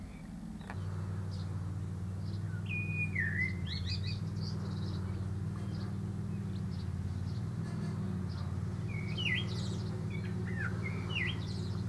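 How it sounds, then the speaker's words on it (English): A blackbird sings scattered fluting phrases over a steady low engine hum in the distance, with brief pauses between bursts of song. "Listen to the blackbird."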